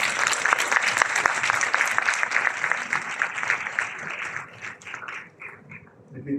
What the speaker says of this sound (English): A round of applause for all parents who stood by.